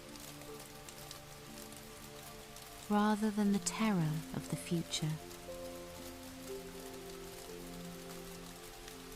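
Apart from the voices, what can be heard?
rain falling on leaves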